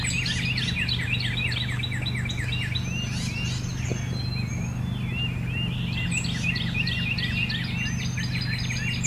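Birds chirp and tweet beside a lake at a Tennessee campground, their repeated bright calls carrying steadily over a constant low hum, with faint insect buzzing and no talking.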